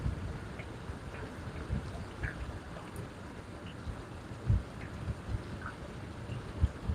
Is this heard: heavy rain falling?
yes